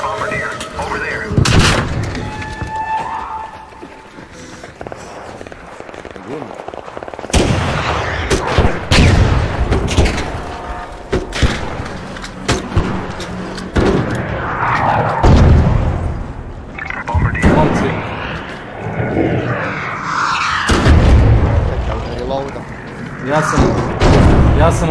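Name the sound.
explosives and artillery fire in a video game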